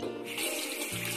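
Tap water runs at a bathroom sink while someone brushes their teeth, a brief steady hiss of flowing water that fills the whole moment close by.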